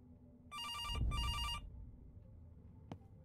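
Two long bursts of a bright, trilling telephone bell ring out in a horror video game, each lasting about half a second with a short gap between them, loud over a low background rumble, followed later by a single sharp click.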